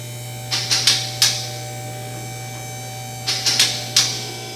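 A car lift raising a car in a garage during an oil change, giving two quick sets of sharp mechanical clicks as it catches on its locks, three or four clicks each, over a steady electrical hum.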